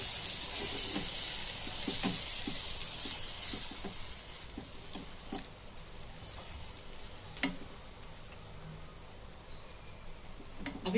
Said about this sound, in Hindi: आधा गिलास पानी डाल दीजिए।